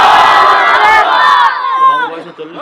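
At a Bangla Islamic sermon gathering, a large crowd roars a loud slogan response in unison, the mass shout holding for about a second and a half before fading into scattered trailing voices.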